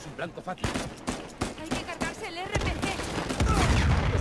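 Rapid bursts of gunfire in the video game Uncharted 4 crackle over a busy mix of effects, with a person talking throughout and a louder sustained rumble near the end.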